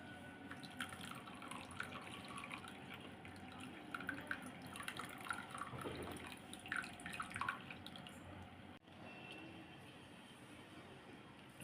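Quiet trickling and dripping water draining from strained grated pumpkin, an uneven run of small splashes close by, fading to near silence toward the end.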